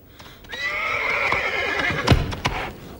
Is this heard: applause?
no